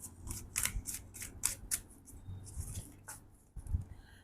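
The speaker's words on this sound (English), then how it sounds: "Let me reshuffle." Tarot cards being reshuffled by hand give quick, crisp bursts of papery snaps and flutters in uneven clusters, close and fairly quiet, with no voice.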